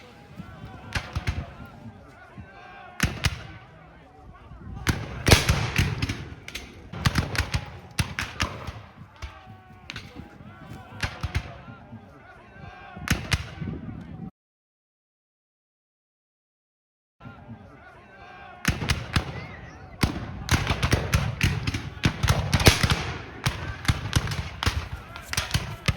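Civil War reenactors fire musket volleys recreating the Battle of Fredericksburg: sharp, loud cracks in clustered bursts, a brief silent gap, then more ragged shots, with voices calling out among them.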